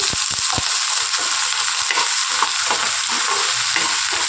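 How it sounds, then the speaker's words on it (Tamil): Garlic sautéing in hot oil for a tomato onion chutney, a loud continuous sizzle with occasional spoon stirring scrapes, close up and without talk. "இப்போ நம்ம எடுத்து வச்சுருக்க வெள்ளைப்பூடையும் அதே எண்ணெயில் நல்லா வதக்கிடலாம்"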